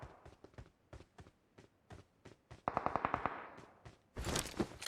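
Gunfire in a shooter video game: rapid bursts of sharp shots, faint at first, then a louder fast volley in the middle and a dense blast of fire at the end.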